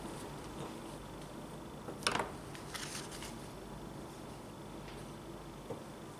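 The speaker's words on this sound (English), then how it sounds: "now I'm going to cut my blue yarn because I do not need it anymore" Scissors snip once through blue yarn during crochet work, a single brief, soft cut in an otherwise quiet room.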